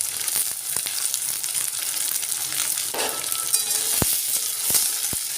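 Green chilli and chopped tomato fry in hot oil for a masala dosa potato filling, giving a steady close sizzle with a few sharp stirring clicks and scrapes near the end.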